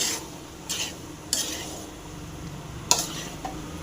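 Small gooseberry pickle being stirred in a pan, with a low background sizzle and several distinct spoon scrapes against the metal at uneven intervals, close and moderately loud.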